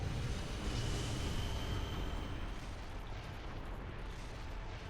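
Continuous roaring, rumbling blast of a boss's fire attack in Dark Souls II: Scholar of the First Sin, a dense, loud wash that holds steady and eases slightly toward the end, with no talk.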